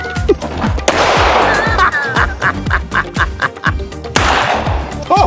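Two sharp, loud gunshots from a Canik TP9 Elite Combat pistol on an outdoor range, spaced a few seconds apart, with busy clattering and voice-like honking between them.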